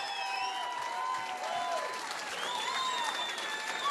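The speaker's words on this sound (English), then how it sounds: "how about a round of applause for both these ladies" Crowd at a women's boxing event in Windham, New Hampshire applauds and cheers after the bout, continuous clapping under shouts and whistles across the arena.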